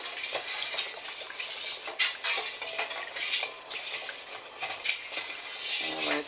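Sugar granules being stirred into kombucha tea with a spoon in a vessel: continuous gritty scraping and light clinking taps, close and fairly quiet, with no one speaking.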